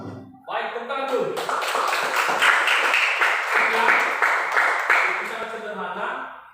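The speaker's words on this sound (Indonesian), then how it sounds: "tepuk tangan dulu" A classroom of students claps after a presentation on parallel electrical circuits, the applause starting after a brief moment and continuing as a close, energetic patter of hands with some tapping.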